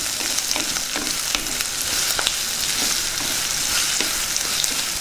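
Green chili pieces and curry leaves fry in hot oil for a cauliflower tomato curry, a close, continuous sizzle broken by repeated scrapes and clinks of a spoon stirring in the pan, with no talking.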